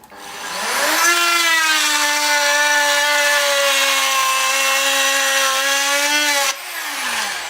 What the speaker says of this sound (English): I shall just work my way backwards and forwards across there till I've got that all routed out.